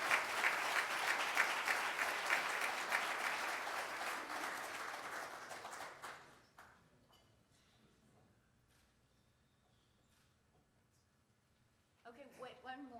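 Rotary Club of Tulsa audience applauding, a dense, steady clapping that fills the room for about six seconds before fading out, leaving quiet room noise and then a voice speaking near the end.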